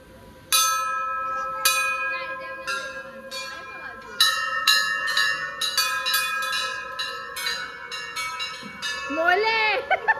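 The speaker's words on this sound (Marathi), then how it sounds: "आपण पण वाजू ना घंटी." Bells at the BAPS Hindu mandir in Dubai are struck again and again in an irregular series, each bright clang ringing on and overlapping the next, with a voice briefly audible near the end.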